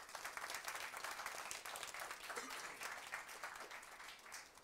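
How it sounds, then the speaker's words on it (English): Audience applause, a dense and even wash of many hands clapping that is heard from a distance and stays fairly quiet for several seconds. "Can we give her a huge round of applause"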